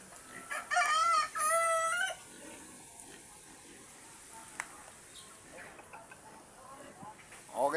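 A rooster crows loudly up close near the start, then soft clucks and scattered noises follow over quiet background chatter.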